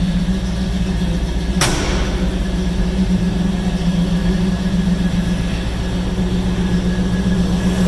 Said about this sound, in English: This original 350 V8 is what it came with.